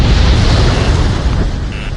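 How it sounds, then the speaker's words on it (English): Missile explosion in the Ace Combat 7 jet combat game, a loud sustained roaring blast that fills the whole clip and slowly tapers off. "Missile launched."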